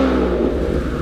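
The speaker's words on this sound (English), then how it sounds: "you give it a little rev, it doesn't sound too bad" A turbocharged 3.7 V6 Ford Mustang with a catted Y-pipe and Roush axle-back exhaust revs briefly, giving a steady, close, deep engine rumble throughout.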